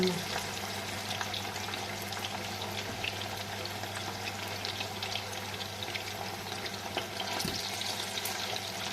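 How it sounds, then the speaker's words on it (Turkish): Chicken breast pieces fry in a pan over high heat, giving a steady, close crackling sizzle that carries on throughout with slight shifts as the food is stirred. "Yüksek ateşte kızartıyorum arkadaşlar"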